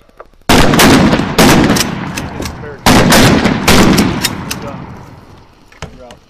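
Army Reserve military police fire weapons on a gunnery range, loud close bursts of gunfire in several sharp volleys with reverberating tails, followed by fainter scattered shots.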